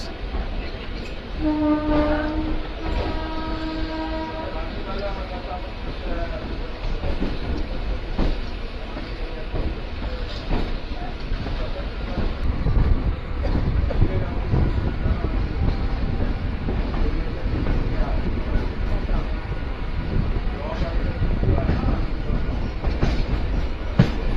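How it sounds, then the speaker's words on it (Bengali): Sealdah to Dankuni local train running out of the station, with steady loud rumbling and clattering of the wheels on the rails and wind noise throughout, plus a brief horn-like tone near the start. "আমাদের গাড়ি শিয়ালদা ডানকুনি লোকাল সঠিক সময় ছেড়ে দিল আট নম্বর প্ল্যাটফর্ম থেকে"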